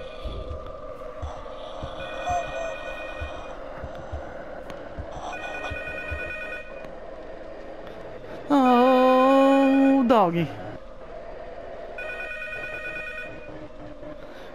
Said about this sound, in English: Alright, the phone's ringing.